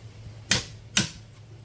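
Two sharp clicks about half a second apart from a torque wrench set to 400 Nm, crisp and close in a quiet room with a low background hum.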